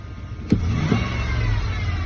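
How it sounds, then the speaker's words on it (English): A 1993 Ford F-150's engine is revved, a sharp rise in engine roar followed by a second shorter surge, then settling back to a steady, close idle hum. "we'll give it a full throttle and release"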